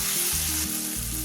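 Onion sautés in a pan for a beetroot cutlet filling, giving a short, steady, close hiss of frying oil with a faint low hum underneath.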